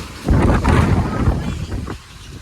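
Strong wind buffets the microphone in heavy, rumbling gusts that rise and fall, loud and close, with a faint voice half-buried beneath, while riding on a motorcycle tricycle.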